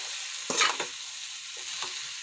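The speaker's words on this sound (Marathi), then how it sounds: "छान परतून घेऊ," Leftover cooked rice stir-fried with sambar and mung beans in a pan, a few short scraping stirs and soft sizzles over a quiet hiss, with gaps of near silence between them.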